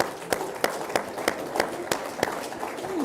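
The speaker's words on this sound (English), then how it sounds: "while you're clapping" Audience clapping at a talk, a run of sharp, evenly spaced claps about every third of a second over a steady low crowd murmur, moderately near.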